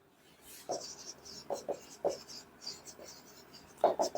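Chalk or marker strokes on a classroom board as a teacher writes notes for a chemistry lesson, with short scratchy bursts in an irregular rhythm, close and fairly quiet.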